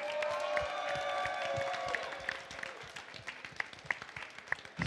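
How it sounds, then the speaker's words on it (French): A small audience claps for Fanny's drawing at a comic-making workshop. The claps come as scattered, distinct hand claps, fairly close and moderately loud, and they thin out toward the end. "on applaudit Fanny pour ce chef-d'œuvre"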